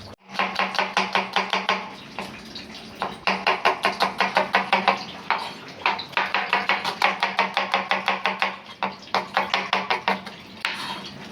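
Onions being chopped with a knife on a board at a busy market stall, with rapid steady bursts of close, loud blade strikes separated by brief pauses.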